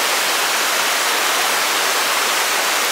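Water flows in a creek at Indian Creek Campground in Cherokee, North Carolina, a loud, close, unbroken rush of white water with no other sounds.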